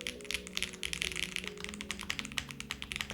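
Typing on a custom gasket-mount mechanical keyboard with a soft feel, a rapid run of crisp, closely spaced keystroke clicks heard up close over a low background tone, with no talking.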